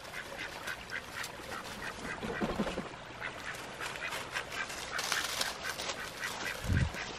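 Ducks quack and a goose honks in a farmyard flock moving up a bank, calls overlapping and fairly close, with a louder burst of honking near the end.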